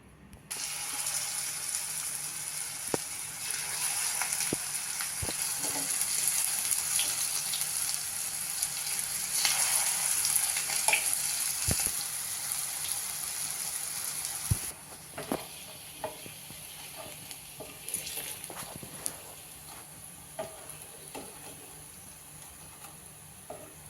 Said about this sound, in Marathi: आता याच पद्धतीने उरलेल्या टिक्की पण आपण शॅलो फ्राय करून घेऊया